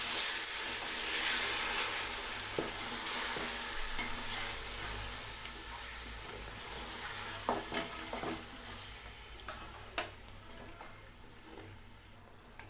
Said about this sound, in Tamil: இப்போ இது கூட நம்ம ஊற வச்சுருந்தேன் சிக்கன் இதில் சேர்த்துங்க. சேர்த்துட்டு இதை நல்லா மிக்ஸ் பண்ணி விட்டுக்கலாம்.